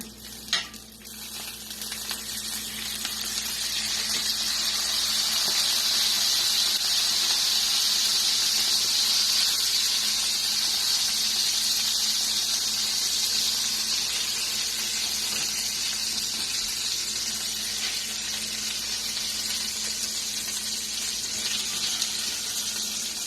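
Bean patties fry in bacon grease in a pan, giving a steady, bright sizzle that swells after a brief clatter at the start and continues evenly close by.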